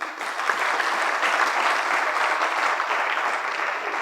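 Sustained audience applause at a career counselling seminar, a dense steady wash of many hands clapping that holds loud throughout with no speech over it.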